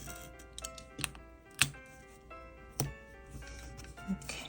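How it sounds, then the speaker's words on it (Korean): Scissors snip cloud-pattern washi tape in a few sharp, close cuts, with faint rustling and tapping of paper between the snips at a quiet desk. "그다음에 이 구름마테를 붙여줄게요. 이렇게 잘라줍니다."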